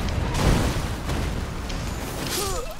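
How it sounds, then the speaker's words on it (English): A heavy explosion in the video game Elden Ring booms near the start and then decays into a long rumbling tail. Faint tonal game sounds flicker near the end. "The explosion killed me."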